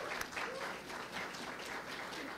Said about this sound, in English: let us give a great applause to Maithili Sankaran